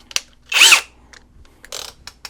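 Sundpey cordless brushless electric drill running at speed 1 and speed 2: brief, close bursts of whirring motor whine separated by short pauses and small clicks, with no talking.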